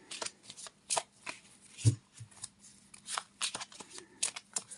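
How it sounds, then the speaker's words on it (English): Tarot cards are riffled and shuffled in soft, quiet bursts, several quick rustling passes with brief pauses between them. "So think about it as I shuffle."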